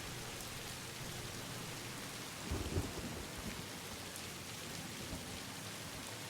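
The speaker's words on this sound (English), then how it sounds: "The new thunder effects always catch me off guard" Game thunder from Satisfactory rumbles low over a steady rain wash, swelling into a brief louder roll partway through before settling back into continuous rainfall.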